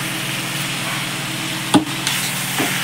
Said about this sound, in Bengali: চিংড়ি মাছগুলো দিয়ে বন্ধুরা আবারও উল্টে পাল্টে ভালো করে নাড়াচাড়া করে নিচ্ছে